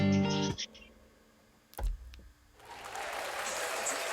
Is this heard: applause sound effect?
yes